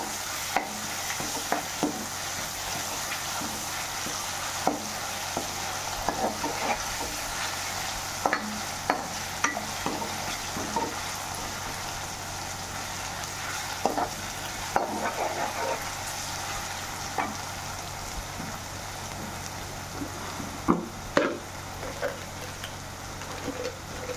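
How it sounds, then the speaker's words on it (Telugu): Ginger garlic paste frying in oil for a mutton fry, a steady close sizzle with repeated spoon-stirring scrapes and taps throughout, no talking. "ఇది ఆయిల్లోనే ఫ్రై చేయాలి బాగా."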